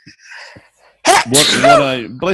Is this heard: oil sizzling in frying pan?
no